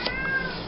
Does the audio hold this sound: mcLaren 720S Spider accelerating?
no